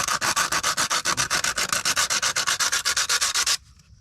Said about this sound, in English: let's take some sandpaper, good grit to it, and scratch and scuff the heck out of that